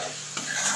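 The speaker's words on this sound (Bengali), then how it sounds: "এবার এটাকে ভালো করে মিশিয়ে" A spoon scrapes and stirs a spice masala mix in a hot pan for a brief moment, with faint sizzling underneath and no voices.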